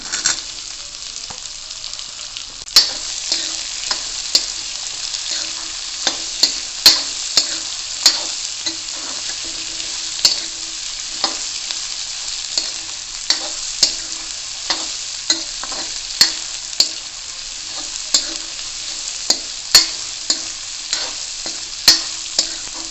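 Long-sliced onions fry in a pan for choliya kadhi, a continuous sizzle broken by regular scraping strokes of a spoon stirring them, close and steady throughout.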